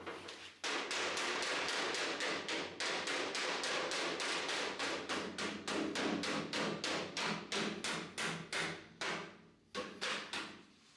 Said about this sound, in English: we're going to get a mallet.